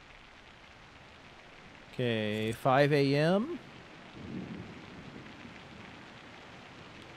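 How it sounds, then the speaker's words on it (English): Steady rain falling in the SimAirport video game, a soft, even hiss running throughout under game ambience, with someone speaking briefly over it. "And it's raining."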